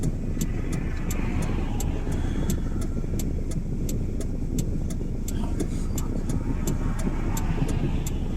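Car driving in morning traffic behind a line of cars, a steady low engine and road rumble close and continuous, with a regular faint ticking throughout and no talking.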